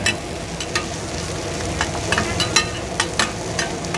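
Metal spatula clanks repeatedly against a wok over a steady sizzle of frying mussels at a night market stall, close by, in an irregular stirring rhythm.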